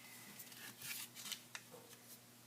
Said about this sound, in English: I want to fold my paper in half diagonally, make it into a big triangle